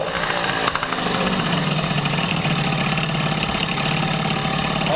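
A French mobylette moped idles steadily nearby, its carburettor running a little rich, with a loud continuous buzzing, knocking rumble and no pauses.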